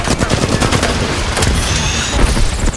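Rapid automatic gunfire striking the player in Apex Legends, loud and close, with fast repeated shots rattling steadily through the whole stretch.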